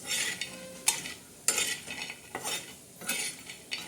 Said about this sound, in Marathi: आता सर्वात प्रथम आपले वडे चांगले असे आपण भाजून घेणार आहोत